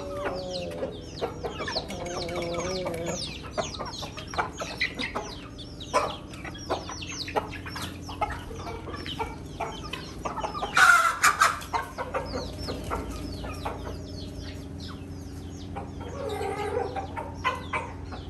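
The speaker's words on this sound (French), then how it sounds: "là je vais libérer les poulets" Chickens let out of their cage for a morning run cluck busily and close by, with overlapping calls throughout and a louder flurry of squawks partway through.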